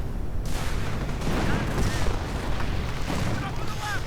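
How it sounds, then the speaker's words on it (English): Dense, continuous rumbling battle noise from a video game fight, with grenades bursting amid rolling gunfire and booms, loud and layered without pause. "Grenades going off as well."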